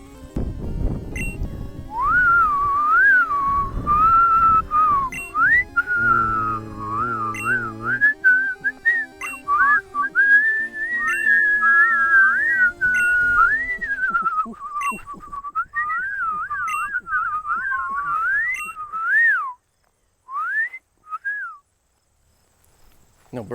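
A person whistles a long wandering tune outdoors, meant for birds. Steady and close, it carries on for most of the stretch and breaks into short phrases near the end, with faint low noise under the start.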